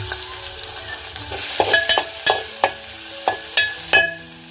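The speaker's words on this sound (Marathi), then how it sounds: "इथे बघा तेलामध्ये लसूण टाकलेली आहे आता आता कांदा टाकतोय" Sliced onion fries in hot oil with garlic for a prawn curry tempering, a constant sizzle under a run of sharp, evenly spaced clinks and scrapes from a stirring spoon against the pan.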